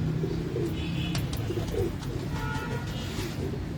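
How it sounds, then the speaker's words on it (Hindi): Old Mistri breed pigeons coo in soft, low, repeated murmurs, heard close within a busy loft amid rustling and steady background noise. "मिस्त्री वाले जो कबूतर हैं ये वो कबूतर हैं।"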